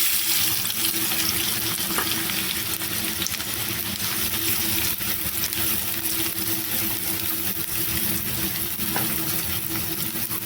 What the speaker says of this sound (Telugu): ఇప్పుడు దీంట్లో సన్నగా కట్ చేసిన ఒక 2 పెద్ద సైజు ఉల్లిపాయలు అన్నమాట